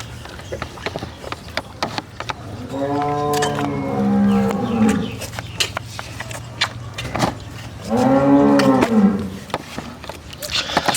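At a cattle market, a big dairy cow gives two long, deep moos a few seconds apart, loud and close, amid scattered clicks and background bustle.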